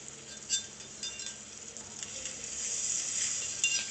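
Tomato juice for rasam simmering in a pan, giving a steady, soft, high sizzling hiss with faint clinks. The sizzle builds slightly toward the end and plays alone, with no voices.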